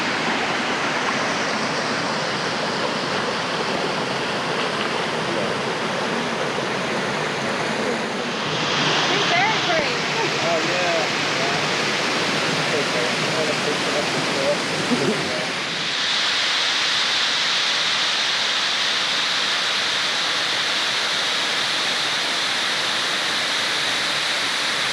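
Waterfall in Stony Brook State Park, a constant loud rushing roar of falling water filling the whole scene, with a brief shift in texture midway.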